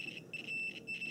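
A multimeter continuity tester beeping on a relay's terminals, a thin high-pitched electronic tone pulsing in short uneven bursts, faint and close.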